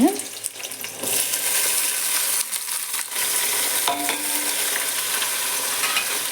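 Vegetables with carrot, tomato, peas, curry leaves and masala are stirred in a pan, with scraping and rustling of the spoon over a sizzling, frying hiss that continues steadily from near.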